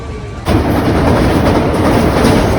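A train rumbles loudly along the tracks, a steady close roar of wheels and carriages that kicks in abruptly after a quieter moment.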